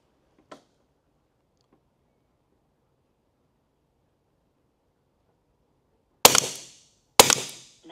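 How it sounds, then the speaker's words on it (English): Two loud, sharp airgun shots from a custom Alamo Airguns Western Airguns Sidewinder in .22 caliber, about a second apart near the end, each with a short decaying tail, following a faint click and near-silence. "let's see what happens when we shoot that just a little bit faster."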